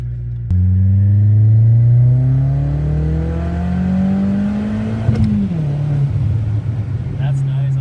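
A big-turbo Audi B5 A4 revs hard through the gears, its engine note climbing steadily, then a short pop at the shift before pulling again, loud and close with people talking over it.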